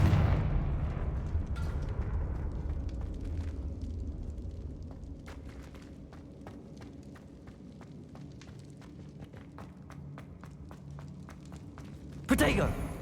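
Fiery Confringo spell blasts in the game Hogwarts Legacy, a loud boom at the start followed by a rapid series of sharp cracks and impacts with rumbling debris, closing with another heavy burst.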